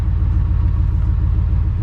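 Steady low idle rumble from a running Chevrolet Avalanche 4x4 engine, close and even, heard alone without voices.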